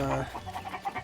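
Soft, repeated clucking from cuccos in Zelda: Tears of the Kingdom, a steady series of short, moderately quiet calls.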